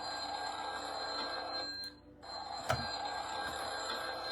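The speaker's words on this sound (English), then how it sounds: "the phone's ringing." A telephone rings with a sustained electronic trill, pausing once briefly before ringing again, clear and alone with no talking.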